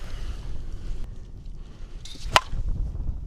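A single sharp crack of an Onyx Whole Enchilada USSSA slowpitch softball bat striking a ball rings out at a distance over steady wind noise outdoors.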